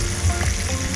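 Snook fillets sizzle steadily in a frying pan, a continuous close crackle of hot oil with no voices.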